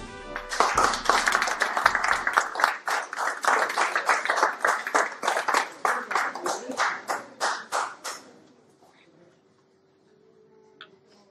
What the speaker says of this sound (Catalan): Els hi fem un fort aplaudiment?